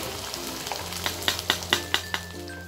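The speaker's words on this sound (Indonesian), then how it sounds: "Dan kita goreng ati amplanya" Chicken liver and gizzard fry in a pan for potato sambal goreng with a steady close sizzle, broken by several sharp clinks of a utensil stirring against the pan.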